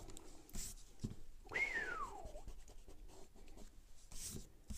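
A pencil sketching curves on paper gives a faint, soft scratching stroke with one longer sweeping curve near the middle, quiet and close in an otherwise hushed room.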